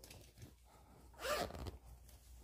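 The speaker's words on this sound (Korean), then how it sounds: "지퍼 한번 올려보시고" Someone pulls up the zipper on a sewn sailor-collar dress while finishing it: one quick rasping zip up close, quiet against faint room noise, with no talking.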